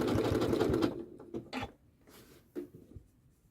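A Janome sewing machine stitches across a fabric postcard in a steady rapid run for about a second, then stops, followed by a few short bursts of stitching and light handling clicks.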